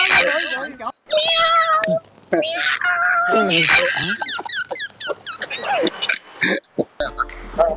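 A human voice imitates a cat's meow with rising and falling wails, mixed with animated speech; sounds are close and fairly loud.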